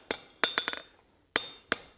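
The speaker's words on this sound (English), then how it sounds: "Helps if you go on top of your anvil, crossways or lengthways of the anvil, to help make sure everything's nice and square and level." Hammer blows on a tong blank at an anvil during blacksmith forging: a quick cluster of four or five sharp, ringing metallic strikes, a pause, then two more isolated clanks, close and loud with no talk.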